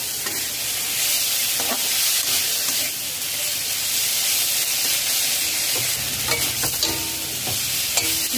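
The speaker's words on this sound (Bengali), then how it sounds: "লো টু মিডিয়াম ফ্লেমে মশলা দিয়ে 5 মিনিট নাড়াচাড়া করে কষিয়ে নিয়েছি।" Spices sizzle and fry steadily in a pan over a low-to-medium flame as they are stirred, a continuous close hiss with scattered scraping stir strokes throughout and no talking.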